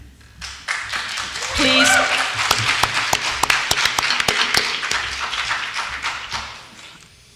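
Brief clapping and scattered applause from an audience at an Ohio congressional candidates' debate in Wooster, a patter of claps under a moderator's speech asking the crowd to hold its applause.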